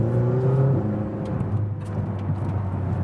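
A McLaren GT sports car drives along with a steady engine drone and road whir heard from inside. A brief higher engine note rises near the start, and the sound stays even and close throughout.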